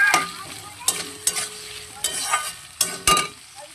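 Onions and browned potatoes frying in oil in a karai, loud spatula scrapes and clatters arriving every half second or so over a hissing sizzle.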